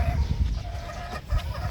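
A Mount Banahaw Butcher hen gives low, soft clucks near a nest of eggs on a backyard farm, with steady background noise and no talk.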